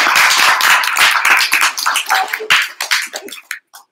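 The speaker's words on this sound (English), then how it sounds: "So a warm round of applause for Entrepreneur Social for being a year old." A modest audience claps at a business networking event celebrating a first birthday, brisk close-up applause that thins into scattered individual claps and stops near the end.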